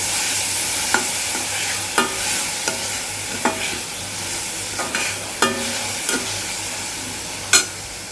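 Chopped onions with a little salt sauté in a hot pan, a steady sizzle broken by a spoon scraping and tapping against the metal every second or so, close and without talk.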